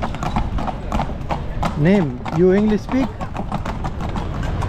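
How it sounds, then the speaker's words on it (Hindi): Horses pulling carriages at a carriage stand in Marrakech clip-clop with steady, close hoofbeats on pavement while a horse whinnies twice and people talk nearby. "घोड़ों की गाड़ियाँ आप देख सकते हैं, पूरा इनका एक स्टॉप है"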